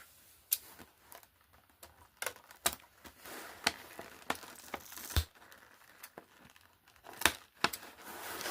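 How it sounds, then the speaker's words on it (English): Tape on a toy box is cut and pulled, making a quiet run of crinkly tearing and sharp ticking snips spaced irregularly and close by, with no voices. "we have to cut the tape"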